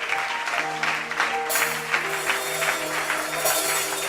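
A church congregation claps and cheers in praise of the Lord, a dense wash of applause from many hands with a swell of cheering midway, steady and fairly close.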